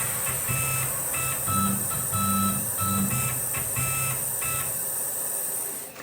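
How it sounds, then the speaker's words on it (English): A Tormach CNC machine runs a digital touch probe to locate knife pivot pin centers, giving a steady motor drone with a high whine and a few short repeated low beeping tones at near-regular intervals, and no talking. "I'm using the Tormach digital touch probe to find the absolute center location of where every single pivot actually is"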